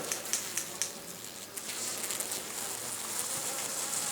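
Honey bees in a hive, wintered indoors and being closed up, give a faint, steady hum with a few soft knocks near the start.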